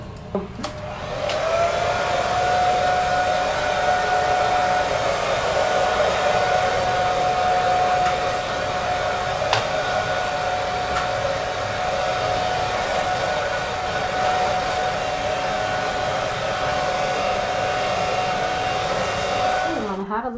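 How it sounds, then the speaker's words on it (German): A hair dryer blows continuously with a steady whooshing roar and a constant tonal whine, switched on and off at the ends. "nach dem Duschen, föhne ich mich auch immer"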